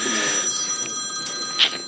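Mobile phone ringing during a council meeting, a bright electronic trill with a sharp chirp near the end, heard in a quiet room.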